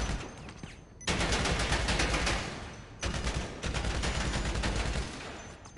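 Sustained bursts of rapid gunfire at the bunker shooting range in GTA Online, loud and dense, with a brief lull near the middle before firing resumes.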